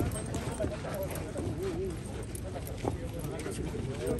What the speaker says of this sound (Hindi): रिवाल चाल जो घोड़े चलते हैं उसमें ये मालूम है हमारे पास